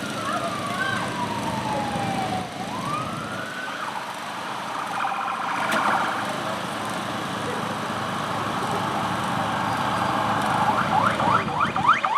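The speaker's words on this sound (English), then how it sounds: "the siren that you hear now coming up" An Arkansas State Police siren wails and yelps in the distance at a mock wreck, gradually growing louder as it approaches, with faint background noise.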